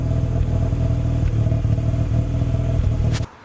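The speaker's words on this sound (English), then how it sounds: "this is the idle with current exhaust setup" A streetported Mazda RX-7 FC rotary engine idling through a custom single-exit exhaust, a steady deep loping burble recorded close and loud, cutting off abruptly at the end.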